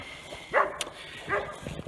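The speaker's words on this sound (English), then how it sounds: "the dog's fenced in" A fenced-in dog barks twice at moderate distance, two short separated woofs over faint outdoor background.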